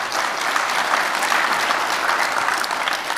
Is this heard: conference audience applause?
yes